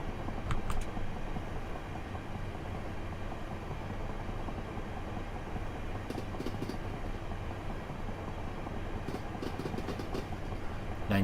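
A train runs in Train Simulator 2022 on the Chatham Mainline, giving a steady low rumble and hum of the locomotive with faint rail clicks and a few brief higher ticks, continuous and moderately quiet.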